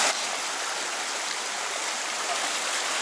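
Steady rushing stream water at a water crossing on the LUT Cortina ultra trail course, a broad continuous wash of flowing water, close and loud, with no voices.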